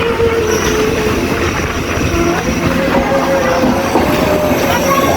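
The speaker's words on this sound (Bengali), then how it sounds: "দেখো, অবশেষে ট্রেনটি কৃষ্ণনগর ঢুকলো।" A train pulling into Krishnanagar station, heard from inside with a loud continuous rumble, rattling wagons and faint wheel squeals as it slows.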